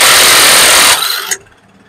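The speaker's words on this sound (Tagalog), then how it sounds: "Kaya kailangan talaga meron ka talaga impact wrench." Loud, sustained burst from an impact wrench working a stubborn suspension nut off an ebike, hammering steadily for about a second before cutting out and fading into a short tail.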